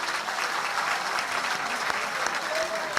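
Audience applause at a Hindi kavi sammelan poetry gathering in Khategaon, a steady dense clapping crowd sustained loudly throughout.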